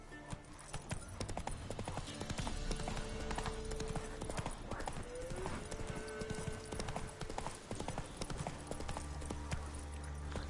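Horse galloping in The Witcher 3 on PS5: a rapid, steady clip-clop of hooves, close and continuous, with a brief whinny and some game sounds mixed in.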